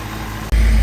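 A Cadillac CTS-V3 engine idles with a low, steady rumble, briefly dipping before settling into a louder, deeper hum.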